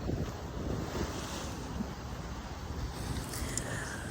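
Ocean surf and steady wind buffeting the microphone aboard a boat crossing the sea toward Gasan, Marinduque, a continuous broad wash with no voices.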